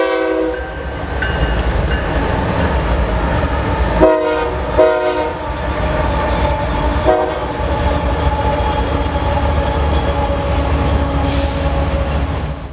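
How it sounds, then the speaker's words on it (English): A Chicago-bound intermodal freight train on a transcontinental main line rolls past with a large locomotive consist up front, a steady loud rumble and clatter throughout, with brief pulses of the train horn sounding near the start. "we catch a Chicago-bound intermodal on the transcon, with a sizable power move on the head end"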